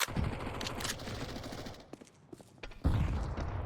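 P90 bursts from the Entry Point video game crackle in quick, dense volleys, loud and close, drop to a brief lull with scattered shots, then swell again near the end.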